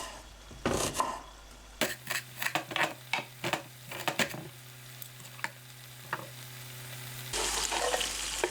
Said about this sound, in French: Dans la même poêle, je fais revenir l'émincé d'oignon.